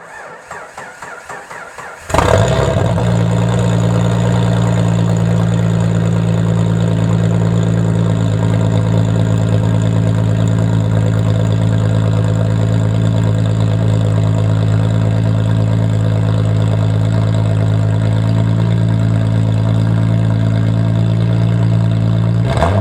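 A 1998 Jeep Grand Cherokee engine, smoking from a suspected head gasket fault, cranks over and starts, then runs at a steady, loud idle for about twenty seconds, close up with no talking.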